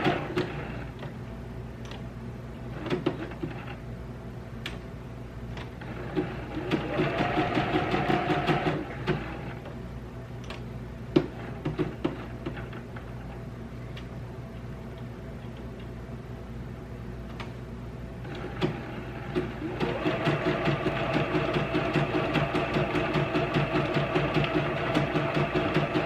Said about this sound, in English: I just make sure I get a really good back stitch in there so it doesn't come undone.